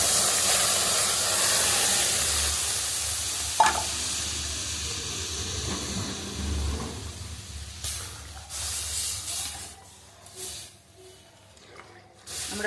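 Boiled mung dal poured into a hot pan of melted tomato, giving a steady hiss and sizzle that fades and flares with splashes and spoon stirring, with a brief clatter near the pan.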